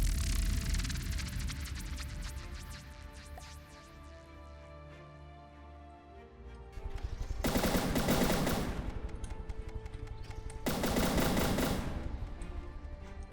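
Weapons fire in the naval combat game From the Depths: rapid machine-gun bursts rattle at the start, followed by two loud, sustained volleys of fire with incoming missiles striking, all close and without talk.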